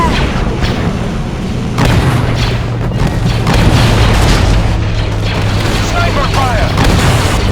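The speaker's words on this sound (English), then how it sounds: "Sniper fire!" Sniper fire and heavy booms ring out on a battlefield in the 2005 Star Wars Battlefront 2 video game, loud and repeated under a dense rumble of combat, with game voices mixed in.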